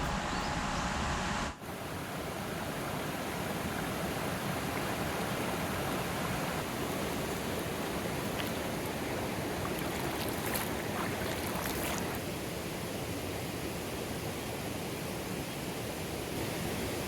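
Cold mountain river in a remote forest setting, flowing as a constant dense roar of rushing water, steady and enveloping for the whole clip after a brief shift at the start.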